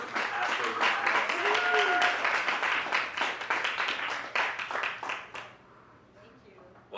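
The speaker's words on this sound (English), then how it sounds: "Give a round of applause for our esteemed guest tonight, Mr. Medha Parker from Casper Labs." An audience applauds a guest from Casper Labs, Medha Parker, at a Web3 evening event: dense, steady clapping for about five seconds, with some voices mixed in, before it fades away.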